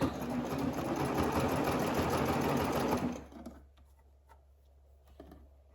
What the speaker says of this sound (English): We're just making sure that we're catching both raw edges of our bodice as we serge.